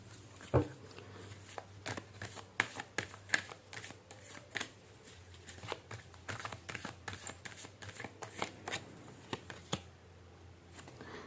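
Tarot cards shuffled close by make quiet, quick riffling and snapping bursts in an uneven rhythm over a faint background hum.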